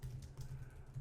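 Quick typing on a computer keyboard, a short run of soft close key taps in a quiet room.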